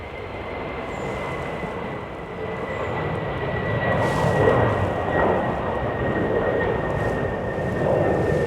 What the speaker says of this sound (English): See an engine being prepared for takeoff there.